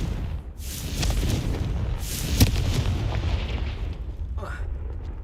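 A Confringo blasting spell detonating in the Hogwarts Legacy video game, a heavy booming burst midway through rumbling game audio, with a few smaller blasts and crackles around it.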